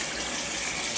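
Running water splashing in a bathtub while bleach is rinsed off the caulk and walls, a steady close gushing stream, loud and unbroken with no voices.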